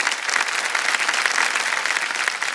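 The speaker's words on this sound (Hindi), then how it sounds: "हम चाहेंगे कि सब लोग तालियों के साथ इनका स्वागत करें।" A studio audience at a televised quiz show applauds in welcome of a contestant's husband, with sustained, full and even clapping and no talk over it.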